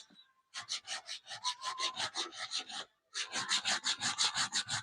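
Sandpaper scrapes back and forth across a DIY hair-clipper guide guard in quick, rhythmic rasping strokes, a short run, a brief pause, then another steady burst, close and crisp with no talking.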